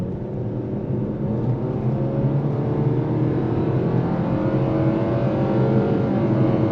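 A 2025 Nissan Sentra with a CVT engine revs in a steady, continuous drone, with simulated shifting heard as tones that climb gradually and reset, close and alone with no talking.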